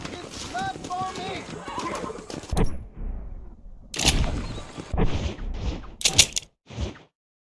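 A horse in Red Dead Redemption whinnies and its hooves clop, mixed with voices talking and a few sharp bangs, ending abruptly in silence.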